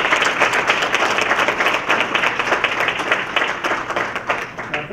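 A college Diversity Night audience breaks into sustained applause, dense continuous clapping filling the room at a loud, even level throughout with no speech over it.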